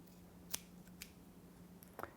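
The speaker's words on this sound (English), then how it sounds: "Then cut off the excess string" Scissors snip excess yoyo string in a few quiet, crisp cuts spaced across a faint steady room hum.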